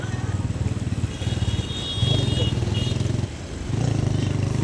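A motorcycle fitted with an aftermarket silencer idles and revs nearby, its low throbbing exhaust rising and falling in short pulses, with faint background noise.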